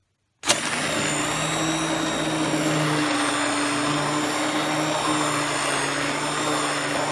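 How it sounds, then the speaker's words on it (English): A countertop blender whirs steadily and loudly, blending hot tomato spaghetti sauce, starting abruptly and running continuously without pause. "if you are going to use a blender like this, remember that the sauce is very hot"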